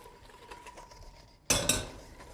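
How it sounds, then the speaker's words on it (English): Metal utensil stirring melting chocolate in a bowl: faint scraping at first, then two sharp loud clinks and rattles against the bowl near the end, close and with no voices. "you keep stirring, and as you can see, it's starting to melt all the chocolate in the bowl"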